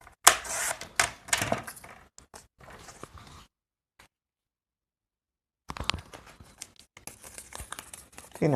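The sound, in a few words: cutting paper in a straight line for a tag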